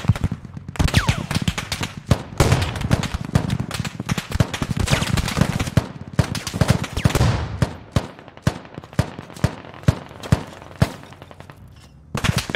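Mortar rounds firing and impacts during a Squad match on the Fools Road map, a dense stretch of sharp repeated booms and cracks that thins into evenly spaced single blasts, loud and close with no talk.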